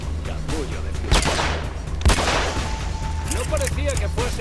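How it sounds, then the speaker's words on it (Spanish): Gunshots at a shooting range in Hitman Absolution, several sharp reports ringing out amid a busy game mix with voices, two especially loud bangs standing out. "Disparos en el centro de la diana"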